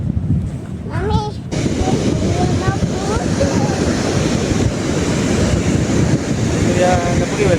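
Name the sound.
ocean waves washing up on a beach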